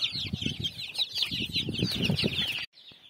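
A flock of chickens and turkeys on a poultry farm clucks and chatters densely at close range, a continuous overlapping din that cuts off abruptly near the end.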